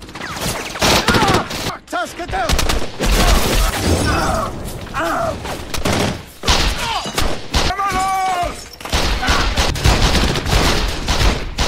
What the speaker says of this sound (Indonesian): Baku tembak pun terjadi hingga para pelaku kembali kabur